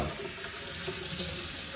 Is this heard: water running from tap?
yes